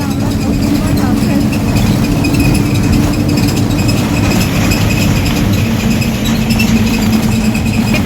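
An air-conditioned city bus rolls along with its engine running, a loud, steady low rumble that fills the cabin throughout, with faint voices mixed in.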